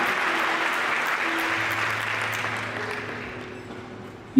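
Church congregation applauding during a Catholic priest's sermon, a sustained wash of many hands clapping that holds steady and slowly tapers off, ending with a brief sharp knock.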